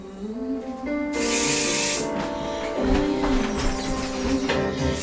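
A loud hissing burst of aerosol hair spray lasting about a second, then another shorter spray, over background music.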